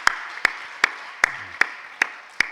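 Clapping at a church service honouring volunteers: sharp, evenly spaced claps land about every 0.4 seconds, crisp and close, in a steady rhythm rather than a dense wash of applause.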